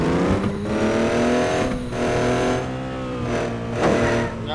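A pickup truck's engine revs hard and steadily while being drifted in the Offroad Outlaws video game, a loud, continuous engine roar with rising and falling pitch and no talk over it.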